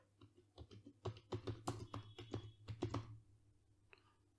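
Typing on a computer keyboard while searching in Windows, with a quick run of close, quiet key clicks in an uneven rhythm that stop after about three seconds, then a single late tap.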